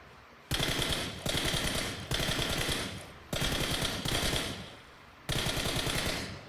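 Automatic gunfire in PUBG Mobile comes in five loud bursts, each lasting about a second, with short gaps between them as the player peeks and shoots.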